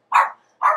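A dog barks twice, two short bright barks spaced about half a second apart, fairly close and clear with no talk over them.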